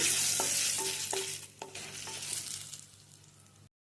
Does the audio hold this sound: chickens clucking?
no